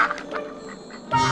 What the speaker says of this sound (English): D is for ducks.